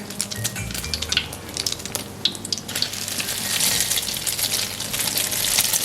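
Egg-battered eggplant slices frying in hot oil, a loud, dense sizzle and crackle that runs throughout with some clinks of utensils, building slightly toward the end.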